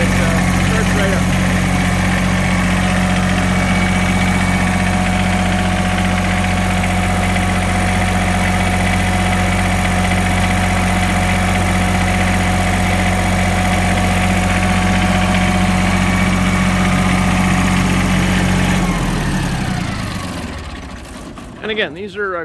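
After a glow-plug start, the diesel engine on a Wacker LTP-4 light tower trailer idles in a loud, even rumble with a steady low hum for about nineteen seconds, then winds down and shuts off, with a few clunks at the end.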